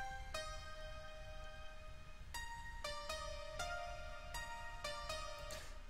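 The Nexus Dance Piano 2K7 synth piano plays a dance-track drop, sounding as a series of bright sustained chords and notes struck every half second or so, heard alone at low level.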